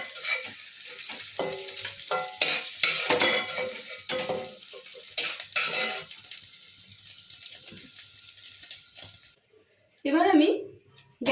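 Paneer frying in a pan while being stirred, a steady broadband sizzle with scraping strokes running under talk for most of the span, then a short pause before a louder burst near the end.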